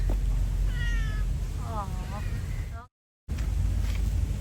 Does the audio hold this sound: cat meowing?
yes